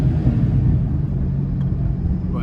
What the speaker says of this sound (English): this is also a stock blower, so stock root style Eaton supercharger